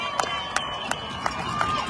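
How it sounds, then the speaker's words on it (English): High school football crowd cheering after the Eagles score a touchdown, a steady roar of voices filling the stands with sharp whoops and shouts every few tenths of a second. "This crowd comes back to life."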